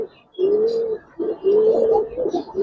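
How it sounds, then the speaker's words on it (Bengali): A female pigeon of a black-bellied fancy breed coos in two long, rolling phrases with a short gap between them, close and clear with no talk over it. "একটা কালপেট্টি মাদি কবুতর"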